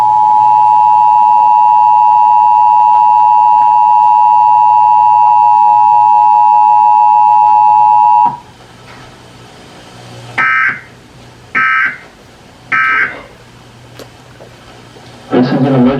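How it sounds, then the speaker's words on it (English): Emergency Alert System warning tone preceding an emergency action notification: a loud, steady two-tone broadcast alert held for about eight seconds, followed by three short digital data bursts and the start of another. "This is an emergency action notification."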